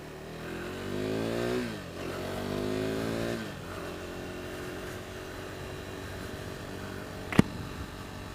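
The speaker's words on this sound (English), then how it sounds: "this bike is a 375cc single cylinder, makes about 45 horsepower, and it's supposed to be really punchy." A KTM RC390 with a 375cc single-cylinder engine of about 45 horsepower on a test ride, its engine note climbing sharply in pitch twice as it accelerates through the gears, then settling into a steady drone, with one sharp snap near the end.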